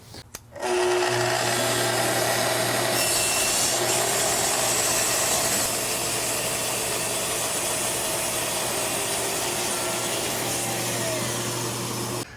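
A Festool saw running on a parallel guide rips a narrow 2 mm strip from a wood board, a loud steady whine and cutting roar starting abruptly and holding for about eleven seconds before winding down.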